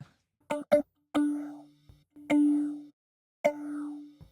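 A sampled guitar instrument built from six layered sample-library sounds plays a few separate plucked notes, each a bright attack with a sustained tone that rings out and stops, with short silences between them.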